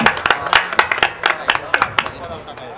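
An audience claps in a steady rhythm, about two claps per second, for a performer during a Marathi kirtan, with voices mixed in underneath.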